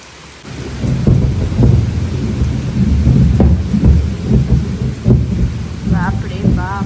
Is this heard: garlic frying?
no